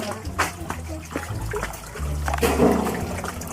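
Water runs and splashes steadily nearby, a continuous gurgling flow with some trickling, and faint background voices mixed in.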